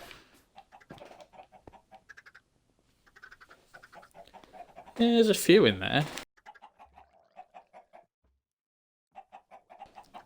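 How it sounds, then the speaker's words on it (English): Blocky video-game chickens, about twenty of them on an egg farm, cluck in short, repeated bursts, with one louder squawking call partway through, while someone talks over them. "It's probably about 20 chickens or so in the top making eggs."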